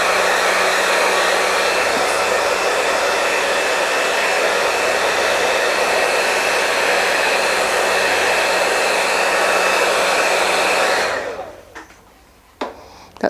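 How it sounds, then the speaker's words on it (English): A hand-held blow dryer roars loud and steady, drying glued paper on a mixed media collage plaque, then clicks off near the end, leaving a quiet room with a couple of small knocks. "I'm just going to zip this with the blow dryer."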